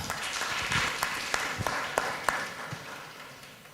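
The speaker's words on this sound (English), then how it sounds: "Applause for Professor Nakamura." Conference attendees applaud a professor before a talk, a moderate round of clapping from a modest crowd with a few distinct nearby claps, gradually thinning out toward the end.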